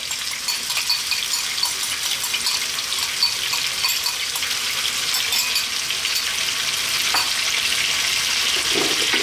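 Homemade sauce sizzles steadily in a hot pan with crispy Chinese chilli chicken over high heat, a continuous bright hiss with faint stirring, close and even throughout.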